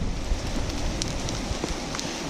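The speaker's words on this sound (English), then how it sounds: "the hail is starting to let up a little bit" Hail falling during a camping trip in the Sierra Nevada, a steady dense patter of impacts that stays fairly even and continuous, with a few sharper hits standing out over the broadband wash.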